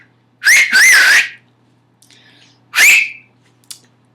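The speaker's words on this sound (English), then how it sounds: "So that is my finger whistle." A person gives a loud, shrill finger whistle, two rising-falling blasts in quick succession. After a pause comes a third shorter blast and a brief chirp, all close to the listener with no talking.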